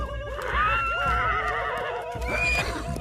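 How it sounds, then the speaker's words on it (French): Wild horses in a cartoon neigh and whinny loudly and close, several overlapping calls rising and falling over a rumbling background. "Les hommes vont capturer les chevaux sauvages!"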